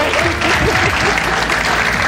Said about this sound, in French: le grand public, nous allons vous demander de vous applaudir très fort.